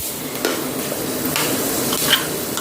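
Fenugreek seeds with mustard seeds frying in oil for a fish curry base, a close steady crackle and sizzle with small pops and spoon stirring.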